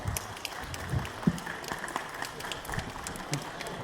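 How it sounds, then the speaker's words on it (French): A crowd applauds after an aikibudo demonstration at a telethon event, moderately loud, fairly distant clapping that runs steadily throughout, with some crowd murmur mixed in. "je crois qu'on peut les applaudir très très fort"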